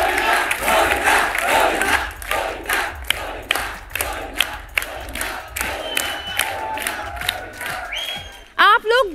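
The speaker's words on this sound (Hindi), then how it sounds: "अरे आज जितनी ताली बजाओ उतनी कम है यार।" Studio audience at a stage comedy show, The Drama Company, clapping in a loud, steady rhythm with cheering and whoops throughout. A whistle or shrill whoop sounds near the end.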